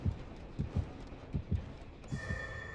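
A heartbeat from the Dead by Daylight horror game thumps in slow paired low beats, repeating steadily, before a bright electronic tone rises near the end.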